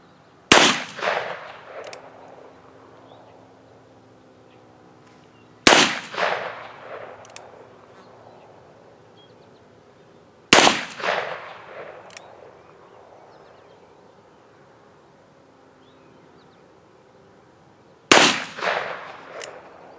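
.38 Special revolver shots fired at a target in an outdoor shooting session: four loud, sharp reports spaced several seconds apart, each trailing off in a rolling echo.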